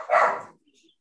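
A single dog gives one short, loud bark close by, then there is silence.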